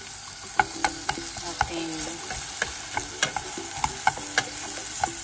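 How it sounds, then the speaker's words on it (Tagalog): Sliced onion sautés in a hot pan with a constant frying hiss, punctuated by a dozen sharp spatula taps and scrapes against the metal; a single brief word is spoken. "Gisa lang natin ito."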